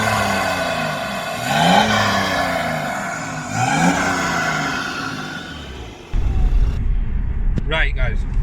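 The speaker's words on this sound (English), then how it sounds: "Go on, pal, give us a rev." BMW 530d diesel with a DPF delete, about 250 horsepower, revved twice in quick succession, each rev a rising then falling engine note, fairly close, followed by a louder rough burst near the end.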